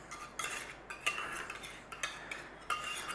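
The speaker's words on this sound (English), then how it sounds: "we're going to give it a good stir up" A spoon stirs and scrapes through a creamy chicken and broccoli alfredo mixture in a baking dish, giving a close series of irregular clinks and scrapes against the dish with quiet pauses between them.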